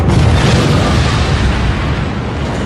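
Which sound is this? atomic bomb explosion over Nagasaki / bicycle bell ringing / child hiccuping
atomic bomb explosion over Nagasaki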